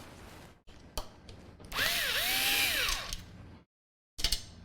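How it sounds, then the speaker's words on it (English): A cordless driver drives CPU cooler screws in one sustained whirring burst of about a second and a half, its pitch rising and dipping, with brief clicks and handling knocks before and after. "Glad I'm using a cordless driver."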